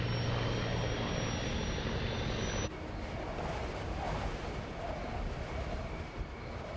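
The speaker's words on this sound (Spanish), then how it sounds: "Justo antes de llegar al aeropuerto, el avión sobrevuela el poblado de Clarence Center." An airliner passes over a small town on approach to the airport, its engines giving a loud, continuous roar and rumble that drops slightly in level partway through.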